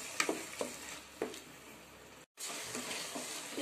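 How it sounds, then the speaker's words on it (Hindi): Ginger, garlic, onion and tomato paste sizzles steadily in hot oil, with a few sharper stirring scrapes near the start and a brief drop to silence midway before the frying hiss resumes. "अदरक लहसुन और प्याज टमाटर की जो हमने पेस्ट बनाई है वो इसमें डालेंगे। अच्छी तरह से हम इसे ऑयल में होने देंगे।"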